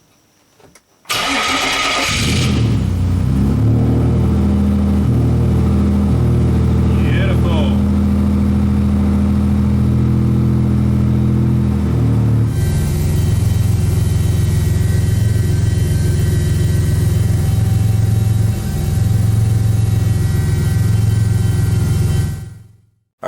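A V6 turbo drift car cranks, catches and settles into a loud, steady idle with a brief blip partway through, running close and alone.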